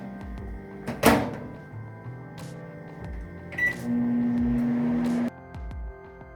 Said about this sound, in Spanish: el calentar una marucha en el microondas